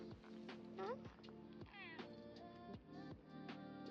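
Pet cat repeatedly meowing up close, several short rising and falling meows in quick succession, clear and fairly quiet over a faint background.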